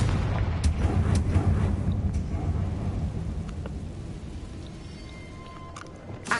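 A Confringo explosion spell in a Harry Potter video game lets out a deep, rumbling blast with a few sharp cracks, and the roar slowly fades over several seconds.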